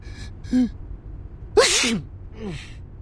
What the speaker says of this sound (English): That's your 9th sneeze since we got here.